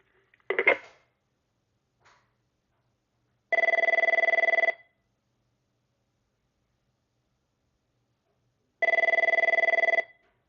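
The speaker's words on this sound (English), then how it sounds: "another thing I love about this is the ringtone, so we'll go ahead and make an intercom call to that phone now" An Avaya IP Office desk phone rings for an intercom call: two separate bursts of a bright electronic ringtone, each about a second long, after a few handling clicks and long silent gaps.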